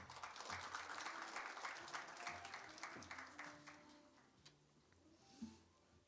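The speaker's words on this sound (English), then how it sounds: "please welcome her with a warm round of applause" A forum audience breaks into applause to welcome a speaker at a vaccine cooperation event, steady clapping for several seconds that gradually thins and fades, with some faint talk underneath.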